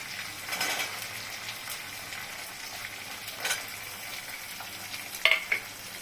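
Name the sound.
green peas added to frying egg curry pan, stirring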